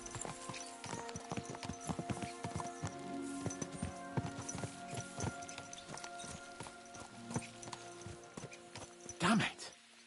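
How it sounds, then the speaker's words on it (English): Several horses gallop with steady, rapid hoofbeats in Kingdom Come Deliverance 2, a whinny rising loudly near the end, while voices talk over the ride. "Let's really spur these horses on, eh?"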